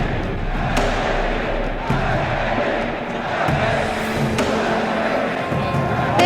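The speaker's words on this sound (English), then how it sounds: "the crowd erupting in chants for SKT" An esports arena crowd at a League of Legends World Championship chants and roars for SKT, a dense, loud wall of voices with rhythmic thumps and stomps.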